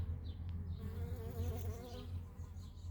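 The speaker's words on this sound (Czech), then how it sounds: "na napáječce tady je těch včel minimum" Honey bees drone around a water trough, a close, continuous buzzing with slight rises and falls in pitch over a few seconds.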